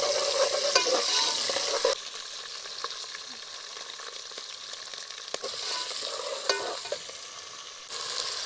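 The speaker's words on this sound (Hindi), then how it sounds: "तो अभी डालेंगे हम अदरक और लहसुन का पेस्ट" Ginger garlic paste sizzles and fries in a pan in a Pakistani village kitchen, with steady crackling, spattering and stirring scrapes that swell and ease across the stretch, close and moderately loud.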